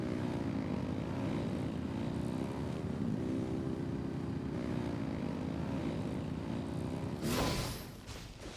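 Video game engines rev in a loud, steady drone that rises and falls in pitch, then swells into a brief burst of noise near the end, with no voices over it.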